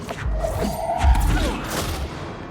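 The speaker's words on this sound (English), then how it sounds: "That guy's got a grenade launcher." Grenade launcher fire in the video game Control lands as heavy low thumps and booms, a couple of deep blasts with crashing debris and a brief electronic whine, close and loud throughout with no talk.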